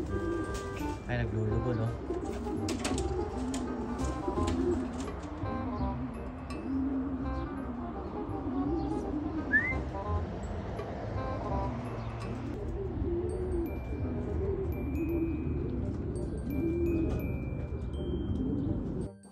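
Homing pigeons coo and flutter around the loft as they return from a 50 km release, the bird sounds steady but partly buried under ongoing talk and background noise.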